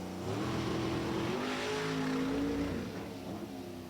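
A Top Sportsman drag race car pulls off the starting line, its engine loud and close, revving up in a steady roar that bogs and bumbles briefly before tailing off, with no talk.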